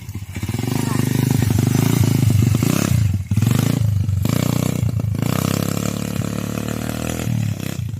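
Motorcycle engine running without an exhaust muffler, loud, raw and close, with sustained harsh revving, a couple of brief dips in throttle, and rattly clatter throughout.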